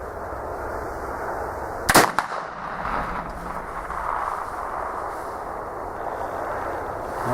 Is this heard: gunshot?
yes